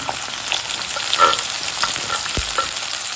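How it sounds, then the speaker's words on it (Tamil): Green chilies and onion fry in a pan with a steady, soft sizzle and faint stirring scrapes, close and continuous without talk. "பச்சை மிளகாவை போடுறேன் அது கூடவே வெங்காயத்தையும் போட்டுடலாம்"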